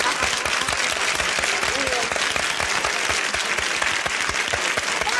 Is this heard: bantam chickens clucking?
no